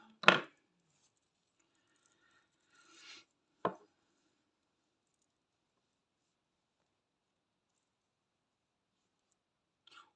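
Crochet yarn snipped with scissors, a sharp close click at the start, a soft rustle, then a second crisp snip, followed by near silence and a faint tap at the end.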